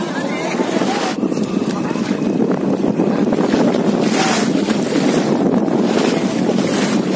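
Boat passing on the sea at a Can Gio fishermen's lantern festival, heard as a continuous loud rush of engine, water and wind buffeting the microphone, steady throughout with no talk.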